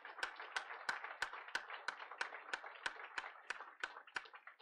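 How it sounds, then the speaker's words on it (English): Faint, evenly spaced sharp claps repeat about fourteen times in a steady rhythm, crisp and isolated rather than a dense crowd roar, with no speech. "Give yourselves a round of applause for that."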